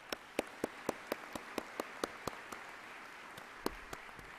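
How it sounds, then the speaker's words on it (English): Sparse, scattered clapping at a congress gathering, a dozen or so distinct claps in an irregular rhythm, fairly faint and distant, with no voices over it. "How about another round of applause for those folks?"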